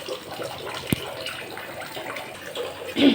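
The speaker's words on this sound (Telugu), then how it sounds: "ఒక రెండు సార్లు అయితే కడిగేసి పెట్టుకోవాలి" Water runs and splashes steadily as mutton is rinsed, with a sharp knock near the start and a louder slosh at the end.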